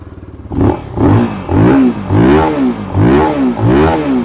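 A QJMotor SRK250R 250cc sport motorcycle engine revs repeatedly, rising and falling in a steady rhythm of throttle blips after a brief idle, loud and close.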